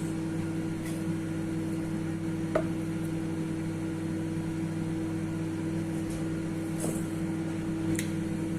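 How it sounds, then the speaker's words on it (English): A low, steady electrical hum drones on continuously from a microwave oven heating food, with a few faint clicks and taps now and then. "I'll put this in the microwave and I'll probably heat it up for about 3 minutes."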